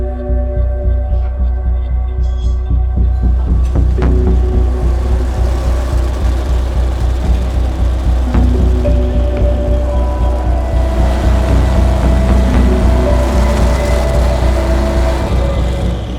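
A drag race car engine runs steadily on a dyno, a loud throbbing low rumble with pulsing rhythm that rises slightly and holds; the transmission lacks high gear.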